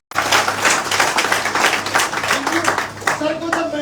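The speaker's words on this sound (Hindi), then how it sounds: "मैं चाहता हूँ सर आप ताली बजा" An audience at a business meeting breaks into loud, dense clapping right after a sudden start. The sound thins a little toward the end as voices begin to rise over it.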